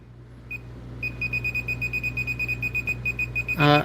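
Steady series of short high-pitched electronic beeps from a Klein circuit breaker finder, about three per second, ending in a louder, buzzier tone, over a low background hum.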